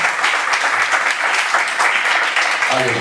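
A church congregation at a men's worship service claps together in lively, brisk applause for the Lord. The clapping is loud and close, and a voice begins to come through at the very end.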